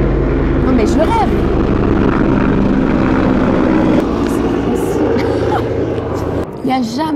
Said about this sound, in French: Il n'y a jamais aucun avion, aucun hélico, aucun bruit quand je tourne pas.